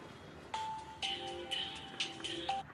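A mobile phone rings with a repeating electronic melody, bright tones sounding in short phrases at moderate volume, with no talking over it.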